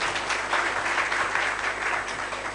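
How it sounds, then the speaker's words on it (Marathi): Brief burst of crowd applause at a gathering, a dense continuous patter of many hands clapping at moderate loudness, holding steady across the short stretch with no voices on top. "यांच्यासाठी जरा जोरदार टाळ्या वाजवल्या पाहिजे"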